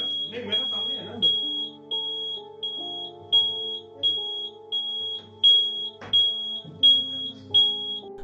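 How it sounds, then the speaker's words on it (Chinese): A smoke or fire alarm in a home beeps continuously in steady, evenly spaced high-pitched pulses, with voices talking and moving underneath. "随后火灾警报器便开始不停作响"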